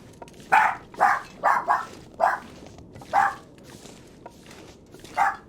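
Several dogs barking in short bursts at a noise near the home's door, about eight sharp barks spaced unevenly over a few seconds, fairly close and loud against a quiet room.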